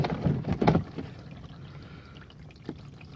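Old oil draining from a Mercedes Sprinter's 2.7L diesel engine, a close pouring splash at first that quickly settles into a softer, steady trickle with a faint drip later.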